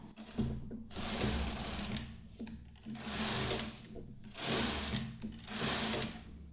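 A knitting machine carriage sliding back and forth across the needle bed knitting rows of a rib stitch, four long rasping mechanical passes with brief pauses between, close and alone.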